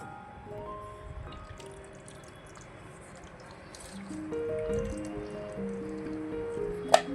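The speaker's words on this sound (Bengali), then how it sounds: "তেঁতুল জলটা দিয়ে দেবো।" Tamarind water poured from a bowl onto aloo kabli, a spiced potato snack, giving faint, soft liquid drips and squishy splashes in a quiet kitchen, with one sharper clink near the end.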